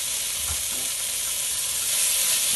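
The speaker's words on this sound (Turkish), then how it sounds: "Soğanlar biraz kavrulduktan sonra sarımsakları ekliyorum." Onions sauté in a pan with garlic just added for a creamy mushroom soup, a steady broad hiss and sizzle close by with faint occasional stirring, no talking.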